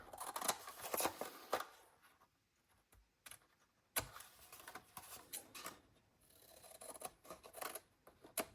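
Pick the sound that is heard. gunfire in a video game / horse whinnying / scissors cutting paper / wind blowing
scissors cutting paper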